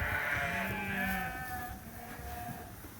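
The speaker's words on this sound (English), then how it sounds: "These are all the sheep that go to pasture." Dorset and Suffolk sheep in a pen bleat in overlapping, wavering cries, several animals calling close by over a steady barn background, loudest at the start and tapering off.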